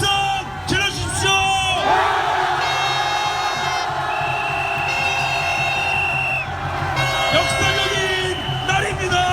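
A large protest crowd near Anguk Station on the day of an impeachment ruling shouts and cheers, sustained whoops and yells swelling together, loud and dense, with voices calling over the roar.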